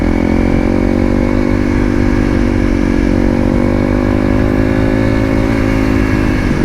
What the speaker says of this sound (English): This kind of bike, this dual sport kind of bike, is just, it's just fantastic.